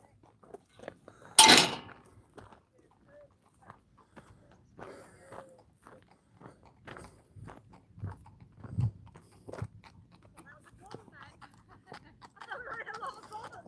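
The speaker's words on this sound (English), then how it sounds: "Now I can hear the sound of horses." Faint, irregular hoof-like knocks of horses walking along the River Humber, spread across the clip, with one sharp louder knock near the start and soft breathing and rustling between.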